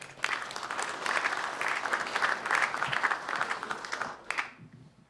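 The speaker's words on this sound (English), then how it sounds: "Please give Mike a round of applause as he comes up" A conference audience at a security tech forum in London applauds as a panelist walks up, with brisk clapping that swells, holds, then thins and stops abruptly near the end.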